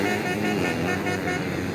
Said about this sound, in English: Air horns blowing all around this circuit in support of all of the riders.